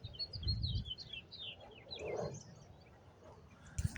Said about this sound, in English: Birds are getting on film too.